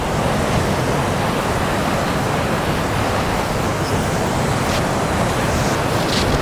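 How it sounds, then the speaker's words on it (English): Ocean surf breaks on the sand at Pompano Beach, Florida, making a continuous close, loud roar of rushing water mixed with wind noise. "waves definitely get a lot bigger over here"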